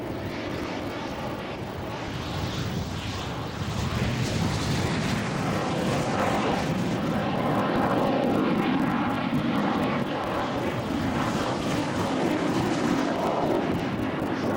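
De Havilland Vampire and Venom classic jets fly past at an air show, a loud, sustained roar that rises in intensity partway through and holds as a dense rumbling wash with no voices.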